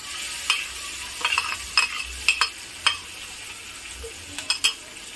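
Chilli thecha is stirred and fried in oil with cumin and coriander in a pan on low flame, a steady soft sizzle broken by sharp spatula scrapes and clinks, with no voices.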